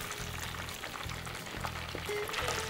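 Duck pieces fry in hot oil, a faint continuous bubbling sizzle heard close with a few soft clinks, and no talk over it.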